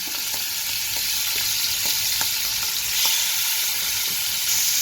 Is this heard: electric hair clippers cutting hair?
no